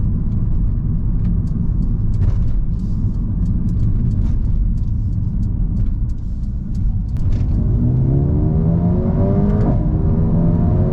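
A 2019 Mercedes-Benz A35 AMG hatch accelerates hard from the cabin, its engine rumbling loudly and steadily, with the pitch climbing through rising harmonics near the end and a few faint clicks over the drone.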